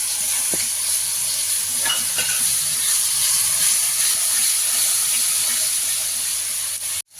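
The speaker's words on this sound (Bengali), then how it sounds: "মশলাটা আমি খুব ভালো করে কষাবো, যতক্ষণ পর্যন্ত উপরে তেল না আসবে ততক্ষণ পর্যন্ত আমি কষাবো।" Masala paste of cumin, coriander and Kashmiri chilli powders, loosened with a little water, fries in a pan for prawn curry, giving a loud, continuous close hiss and sizzle with faint stirring; no talk.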